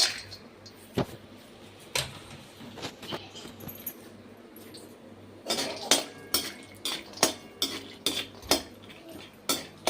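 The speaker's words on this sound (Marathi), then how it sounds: "असे हलून हलून फास्ट गॅसवर बदाम फ्राय करायचे" Almonds are fried and stirred in a kadhai over high flame, a utensil scraping and clinking against the pan in irregular sharp knocks and rattles, busier toward the end, with no voices.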